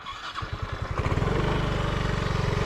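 A motorcycle engine catches and settles into a fast, even putter, growing louder and steady after the first second, close by with no voices.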